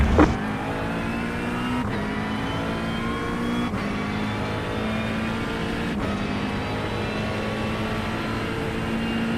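A race car engine drones steadily in iRacing, a close, continuous mid-pitched roar with a brief knock at the start and slight shifts in tone as it holds speed.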